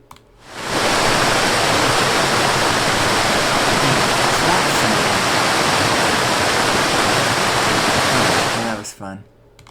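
A waterfall from an animation roars as a steady, loud, full rush of falling water that fades in, holds constant for several seconds, then cuts off abruptly.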